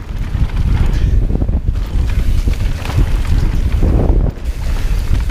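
Strong gusting wind buffets the microphone in loud, uneven roaring bursts, easing briefly before surging again.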